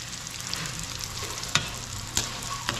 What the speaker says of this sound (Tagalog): papupulayin lang ko na yung konti yung ating garlic